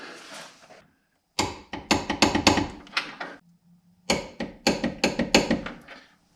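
Coilover bolts on a third-generation front suspension being torqued with a wrench, heard as two loud bursts of rapid metallic clicks and ratcheting taps separated by a short pause, close up with no talk.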